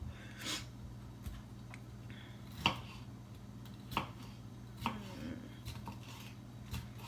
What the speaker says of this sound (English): I'm gonna finish dicing up this green pepper and stuff